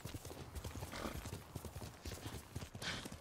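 Rhythmic horse hooves galloping in Ghost of Tsushima, a steady clip-clop beat close by, moving through bamboo, with a brief whinny-like breath mixed into the rapid footfalls.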